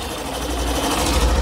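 Running engine of a 2024 Hero Glamour 125 BS6 motorcycle, heard up close as a continuous fast mechanical whir and rattle, steady in level with no talking.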